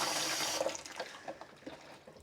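Tap water runs into a sink while dyed fabric is rinsed, a steady rush at first that thins into softer splashes and trickles.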